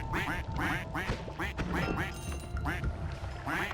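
Ducks in the game Noita quack repeatedly in a rapid, overlapping chorus, steady and fairly loud throughout, with a voice talking underneath.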